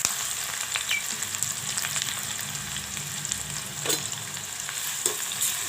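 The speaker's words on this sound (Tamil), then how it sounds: "சீரகம், சோம்பு, லவங்கப்பட்டை, வெங்காயம் போட்டுக்கிறேன்" Cumin, fennel, cinnamon and onion fry in a pan for a goat trotter dish, a constant close sizzle with occasional scraping stirs of a spoon, steady and unaccompanied by voices.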